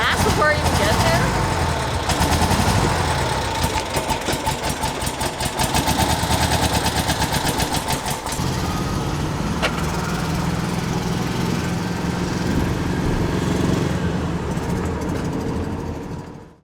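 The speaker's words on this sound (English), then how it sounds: "The Beetle hasn't run in like 2 years. She's definitely struggling to like clear this thing out." A Volkswagen Beetle engine that has sat unused for about two years runs roughly and loudly in a garage, sputtering and uneven with a struggling idle, while people talk over it.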